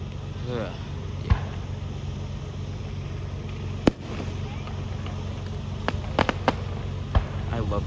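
Fourth of July fireworks go off in scattered sharp bangs and crackles, several loud pops clustering late, over a constant outdoor rumble with people talking now and then.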